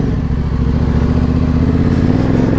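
A 300cc two-stroke dirt bike revving hard at a gravel pit, its loud, raspy engine drone holding steady and close throughout the short stretch, with no voices.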